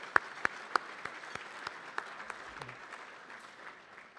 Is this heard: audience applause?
yes